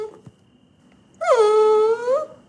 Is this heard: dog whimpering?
yes